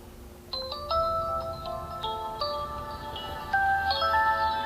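A classic polyphonic ringtone from a Servo Ultra 700 mobile phone plays a bright, beeping melody of stepped electronic tones, clear and close with no talking.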